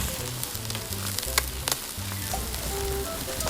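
Lunch sizzles and fries in a pan at a campsite in Japan, a steady close crackle with occasional stirring clinks and scrapes.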